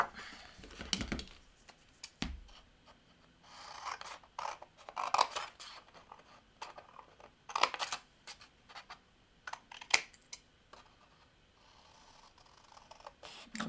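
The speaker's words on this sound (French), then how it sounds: "Je coupe sur le pli, c'est beaucoup plus simple." Paper cut with scissors along a fold, a series of close crisp snips and rasping slides in irregular bursts with short pauses.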